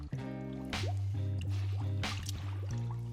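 A Liquid Elements Black Hole Evo drying towel, 1400 GSM, being pushed into a bucket holding 5 liters of water: close, wet squishing and dripping sounds with a couple of louder sloshes over a steady low hum.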